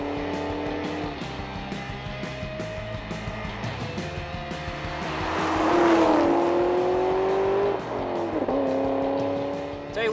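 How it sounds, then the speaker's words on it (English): A custom 750 hp supercharged Camaro SS drives close by with a steady engine roar and a high supercharger whine that climbs in pitch as it accelerates around the middle, then eases off and builds again. "Tell you one thing that I really enjoy about this is the whine of the supercharger"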